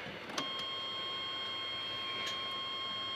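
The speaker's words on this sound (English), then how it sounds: "Where is the beep on this thing?" Electronic tone from a device under tuning during a 1998 VHP joker repair, a steady high pitched beep held throughout with a couple of faint clicks, no talk.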